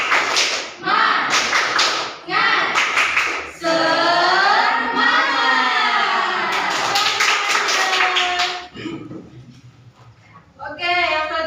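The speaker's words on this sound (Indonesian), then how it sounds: "Tepuk semangat." A classroom of standing students performs a patterned spirit clap, bursts of loud unison claps alternating with a sustained shouted chant, voices joining in throughout.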